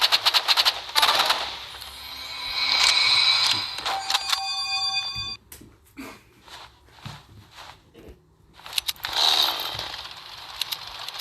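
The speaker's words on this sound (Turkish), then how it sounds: "Evet testereler kızışıyor." Video game chainsaws: harsh buzzing saw-like whine with sharp rattling bursts and clicks, loud and busy, fading briefly before the roaring returns near the end.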